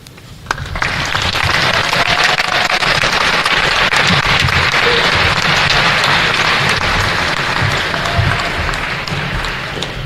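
Sustained loud applause from a banquet crowd honoring the 2025 Hammond Sports Hall of Fame induction class, dense clapping filling a hall evenly for about ten seconds.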